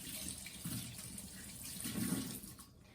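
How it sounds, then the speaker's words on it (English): Tap water runs steadily into a sink as hands are washed, a soft continuous splashing stream throughout with slight swells in the flow. "don't forget to wash your hands"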